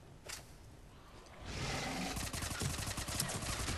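An SMG firing incendiary rounds in the video game Mass Effect 3 lets off a sustained burst of rapid gunfire in the second half, following a single earlier shot, with a crackling, roaring texture.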